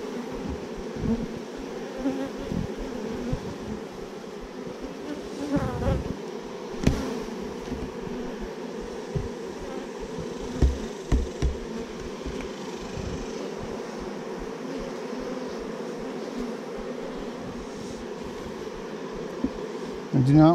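A dense swarm of honey bees hums steadily at close range around an open hive, with occasional louder passes and a few soft knocks and rustles underneath.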